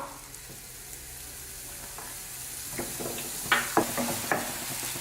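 Garlic, ginger and spring onion whites sauté in hot oil over a high flame, a soft continuous sizzle that grows busier as a spatula stirs and taps against the pan near the end.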